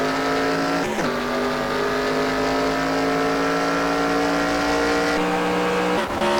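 A race car engine screams at high RPM, heard from inside the car on track at Mosport, a loud, steady, buzzing drone with brief dips as the driver shifts.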